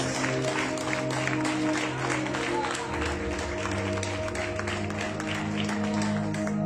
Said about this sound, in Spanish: aplaude al Señor, aplaude al Señor